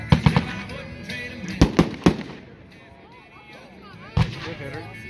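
Fireworks shells bursting during a 2019 consumer fireworks demo, several sharp, loud booms: a quick cluster of three, then three more evenly spaced, a lull with faint background noise, and a final single blast.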